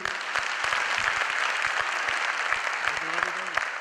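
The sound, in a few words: audience applause for Kapil sir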